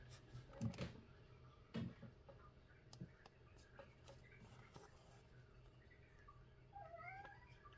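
A cat meows faintly indoors in a quiet room during painting work, a few short, soft meows, with light ticking and scratching sounds in the background and a brief rising chirp-like call near the end.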